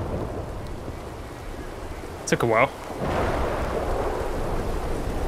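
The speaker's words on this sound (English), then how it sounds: "Storm starting as soon as Dutch does his speech." Thunderstorm beginning in the video game Red Dead Redemption 2, with steady rain hiss and a rumble of thunder swelling after a brief snatch of speech.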